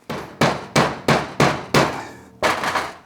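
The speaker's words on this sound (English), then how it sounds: "I don't recommend tapping it with a hammer if you can help it, because you don't want to roll your seals" Hammer tapping a seal into a Massey Ferguson hydraulic cylinder: six loud, evenly spaced metallic blows about every third of a second, each ringing briefly before the next, close and with no talk.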